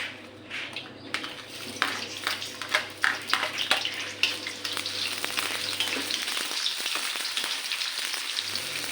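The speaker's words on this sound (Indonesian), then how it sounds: "Kita goreng sampai setengah matang." Shallots frying in hot oil sizzle steadily and loudly close by, with scattered crackles and stirring scrapes and no voices.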